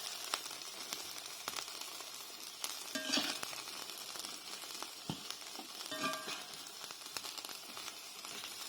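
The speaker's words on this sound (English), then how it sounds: "you're going to lightly stir it through here" A spoon lightly stirs a pot of healthy stovetop mac and cheese, giving soft, quiet wet scraping and sizzling textures with faint intermittent clinks, close by and without talk.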